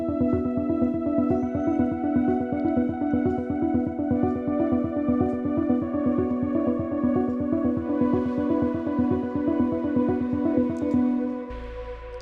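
A synth arpeggio pulses in fast, even repeated notes over a sustained harmonic pad layer in an electronic track. It plays alone and steadily, and a brighter layer swells near the end.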